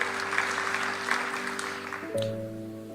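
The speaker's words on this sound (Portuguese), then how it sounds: "Salva de palmas para o Senhor." Applause from a church congregation during a sermon, a dense steady clapping that ends abruptly about two seconds in, leaving sustained tonal organ or keyboard notes.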